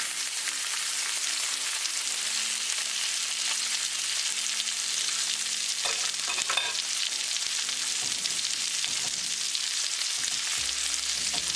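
Salmon fillets frying in butter in a skillet over medium-low heat, giving a loud, constant, close sizzle with a few soft scraping stirs mixed in.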